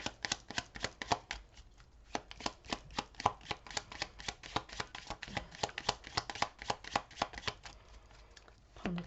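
Tarot cards are shuffled by hand for a reading, giving a dense run of close, crisp riffling slaps and taps in quick irregular bursts with no voices.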